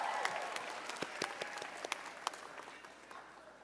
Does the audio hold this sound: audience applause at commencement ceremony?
yes